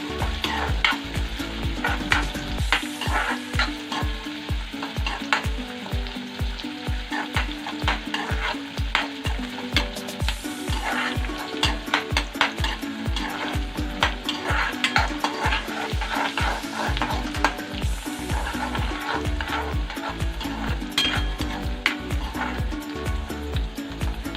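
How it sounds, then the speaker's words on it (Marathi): Onion frying and being stirred in a pan for a Marathi-style banana vegetable dish: steady close sizzle with a constant rhythmic scrape of a spoon against the pan throughout, no talking. "आता आपण कांदा भाजून घेऊया"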